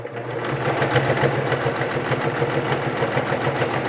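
A White Jeans Machine sewing machine stitches through four layers of denim on a plastic folding table, running in a steady, fast mechanical whir with a rapid needle rhythm, loud and continuous throughout.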